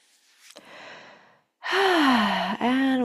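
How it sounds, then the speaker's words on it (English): Deep breathing during a relaxing chair yoga session: a soft, airy inhale, then a long, audible exhale that turns into a voiced, sighing tone. The breaths are close and clear with a short pause between them. "take a few deep breaths."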